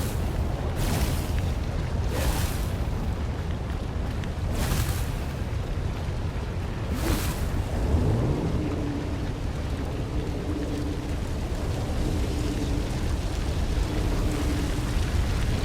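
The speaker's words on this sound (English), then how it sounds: "Renato hated cannon traps." A cannon trap in the game Stories: The Path of Destinies fires several heavy booming shots spaced a second or two apart, then a low rumbling hum drags on beneath steady background game sound.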